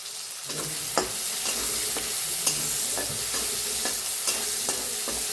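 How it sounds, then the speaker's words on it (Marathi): Chopped onion and crushed garlic frying in hot oil, a bright continuous sizzle with regular scraping stirs of a spatula every second or so, close up and prominent. "एक कांदा कापून घेतलाय तिथे टाकूया लसूण चेचून घेतलाय ते बी टाकूया आणि छान दोन्ही भाजून घेऊया"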